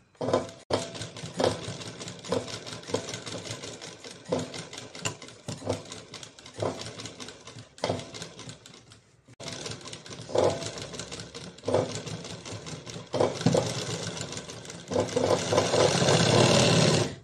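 A sewing machine runs in long bursts of rapid stitching while a blouse sleeve is being joined, pausing briefly between runs, close and steady with a loud stretch near the end.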